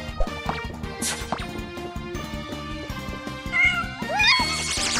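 Cartoonish cat meows from the video game KinnikuNeko Super Muscle Cat, several short rising cries over busy game music, with a brighter, louder meow near the end.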